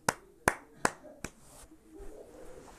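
Four sharp hand claps ring out at a brisk, slightly uneven pace, loud and close, followed by a quieter stretch of faint room noise.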